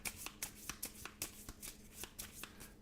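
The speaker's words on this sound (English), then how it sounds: "you're going to shuffle those into the deck" Cards for the Star Wars Battle of Hoth board game are shuffled into a deck, with quick repeated riffles and snaps in a fairly steady rhythm, soft and close.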